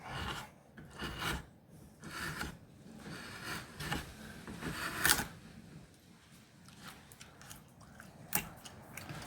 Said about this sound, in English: we're starting with the rough part, and I'll just use the draw knife for that